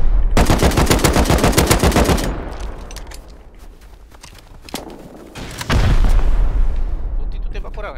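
Automatic gunfire in the survival video game Rust comes in loud rapid bursts, followed by a quieter stretch of scattered shots and then another heavy volley.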